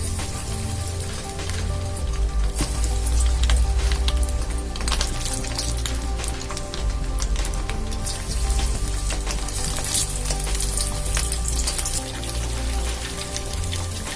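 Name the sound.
marinated prawns deep frying in hot oil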